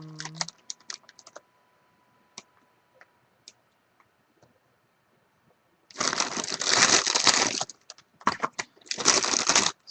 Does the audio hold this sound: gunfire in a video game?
no